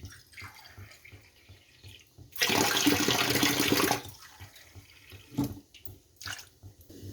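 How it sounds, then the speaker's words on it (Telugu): Water, about five glasses' worth, poured into a pot of curry with turmeric, curry leaves and dried chillies: a loud splashing pour lasting about two seconds mid-clip, with quieter kitchen clinks and drips before and after. "ఒక 5 గ్లాసెస్ వాటర్ వేసుకోవాలి"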